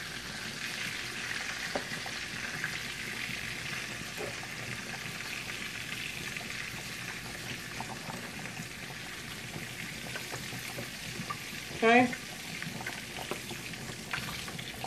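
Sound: beef patties sizzling while frying in a pan

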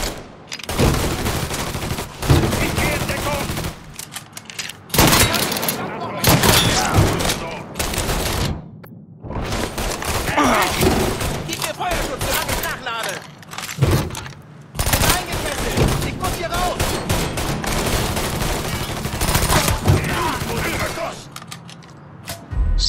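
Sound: gunfire in the video game Mafia III

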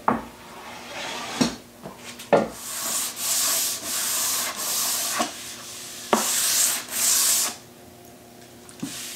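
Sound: light sanding of a glued-up wooden board

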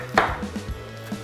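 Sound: chopping red onion into small cubes

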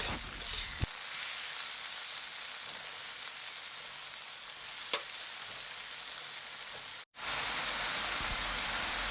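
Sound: stir-frying lotus stems in a pan

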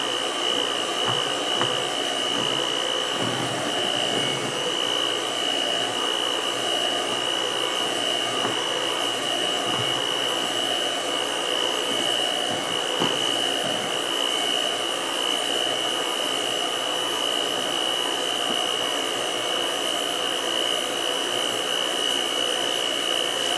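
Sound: electric mixer stirring liquid baby soap

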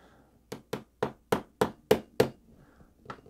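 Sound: tapping drone parts into place

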